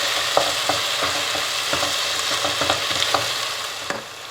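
Tomatoes and green chilies sauté for biryani in a close, loud pan, with a continuous sizzle broken by regular stirring scrapes. No voices.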